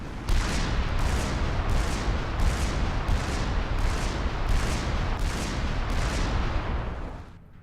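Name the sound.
Cybran unit cannon launching Shredder drones in video game Supreme Commander 2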